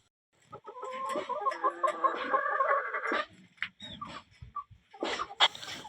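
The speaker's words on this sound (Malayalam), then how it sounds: "പിന്നുള്ളത് കുറച്ച് വേറെ കോഴികളുണ്ട് നമുക്ക്." Farm chickens cluck and chatter close by, a busy overlapping run of calls that fades into scattered clucks and a few sharper squawks, with no talk.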